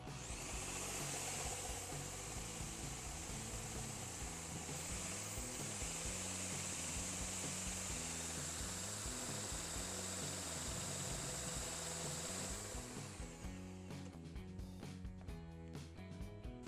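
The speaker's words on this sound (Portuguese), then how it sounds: "coloquei a furadeira aqui para a gente fazer um teste" An electric drill spins a homemade pulley in a test, giving a steady high whine with a low rattling hum underneath for about thirteen seconds before it cuts off.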